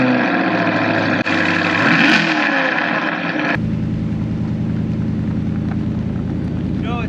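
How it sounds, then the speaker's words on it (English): A Chevrolet Corvette C8 starts cold, firing into a loud rising roar before settling into a steady, rumbling high idle that continues to the end. "Last cold start in the C8, maybe last cold start for a Chevy on our channel ever"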